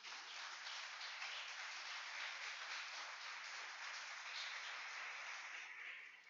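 Congregation applauding during a church service, a continuous wash of many hands clapping, faint and distant, unbroken with no talk over it.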